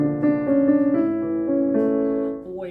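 Piano playing a short phrase of Greensleeves with deep arpeggiated chords, notes rolling upward and ringing over one another, close and alone.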